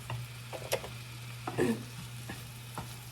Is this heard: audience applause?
no